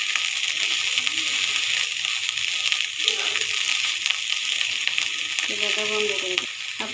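Small shrimp fry in hot oil in a pan with a loud, steady sizzle and crackle, occasional stirring and sloshing sounds mixed in, close by.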